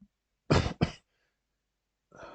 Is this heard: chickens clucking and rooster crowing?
no